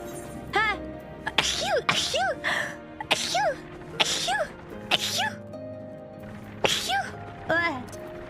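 Several short sneezes, likely from a person playing through a cute voice changer, recur across a compilation, some pitched and warbly, interleaved with voices talking and laughing.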